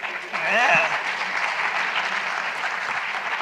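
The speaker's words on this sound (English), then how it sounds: "Thanks for clapping" Audience applause, a steady burst of many hands clapping with a voice speaking briefly over it at the start.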